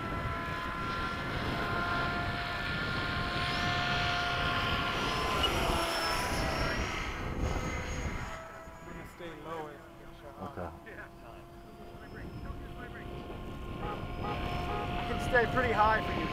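F-5 jets in formation making a low pass at Bayside at sunset, heard from aboard as a loud, continuous engine roar. People talk over it, and the noise eases and partly drops away midway through.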